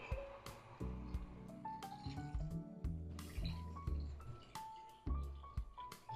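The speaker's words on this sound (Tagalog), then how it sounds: "Lalagay ko na yung siya ng tubig." Water pours and splashes into a cooking pot for chicken tinola in a series of faint gurgles and drips, with uneven glugs spread across the pour and no talking.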